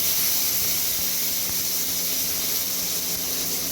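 Steady loud hiss and sizzle of tomatoes dropped into hot oil with fried garlic, a continuous close-up spitting noise with no talk.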